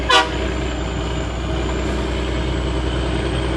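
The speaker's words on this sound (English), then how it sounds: "So this is the factory horn" One short, sharp truck horn toot right at the start, then a steady low engine idle rumbling on alone.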